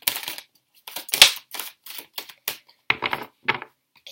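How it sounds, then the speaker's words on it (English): Tarot cards being shuffled by hand, heard as a close run of crisp, papery riffles and flicks in short bursts separated by brief pauses, with no talking. "now I'm just going to properly shuffle the cards"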